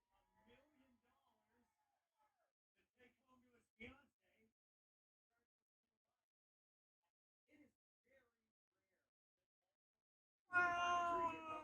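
After a stretch of soft, sparse talk, a kitten lets out one loud, close meow that fills the last second.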